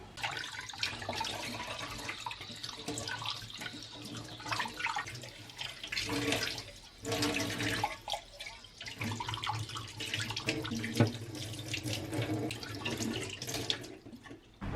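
Cold water runs from a tap for about fifteen seconds, a steady close splashing and gushing with swells and small bursts and a few brief clatters.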